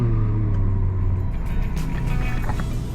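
A Lamborghini Aventador SVJ's engine rumbles loud and close at a low, steady idle just after starting, with a faint rising whine layered above.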